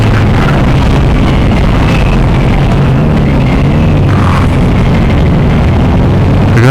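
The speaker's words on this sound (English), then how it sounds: "This stock exhaust is beefy, man. It just sounds beefy and sounds good." A Suzuki V-Strom 1000XT motorcycle with its stock exhaust rumbles loud and deep on a test ride, a constant heavy engine drone with wind roar over it.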